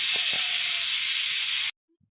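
Pressure cooker cooking sweet potato and peanuts, giving a loud, steady high-pitched hissing whistle for under two seconds before cutting off abruptly to silence.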